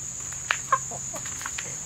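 A molting pigeon makes a few short, clucking calls at close range, spaced irregularly, over a steady high insect-like whine outdoors.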